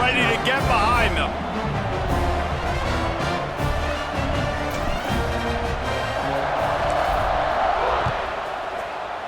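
A football stadium crowd roars before kickoff, a broad sustained rumble of cheering voices from a large distant audience that swells then eases slightly, heard under steady commentary.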